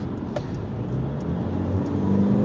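A Mercedes-AMG car drives steadily at speed, with a continuous low road and engine rumble heard from inside the cabin.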